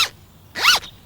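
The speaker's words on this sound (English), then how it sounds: "It's a zip." A single quick zip sound, a short rasping pull, close and clear, after a brief opening scrape, with no voices.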